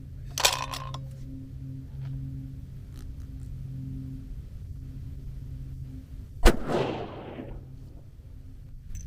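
Two sharp rifle shots from a 22 DPC Wildcat cartridge firing an 85.5 grain projectile crack loudly outdoors, one early and one about six seconds later, each followed by a fading rolling echo over a low steady hum.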